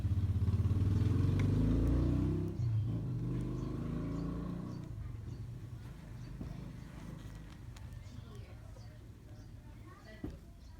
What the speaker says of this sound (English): here comes another vehicle.